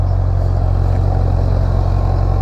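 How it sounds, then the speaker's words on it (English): A 2008 Honda CB1000R motorcycle fitted with a sports exhaust rumbles while being ridden, its engine producing a steady, low, pulsing drone that stays loud and even with no talking over it. "Engine sounds absolutely sweet."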